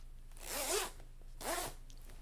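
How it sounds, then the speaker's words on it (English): A clothing zipper is pulled open from the bottom in two quick, close rasping strokes, each about half a second long, with a short pause between them and no voices. "this has a zipper from the bottom for easy access"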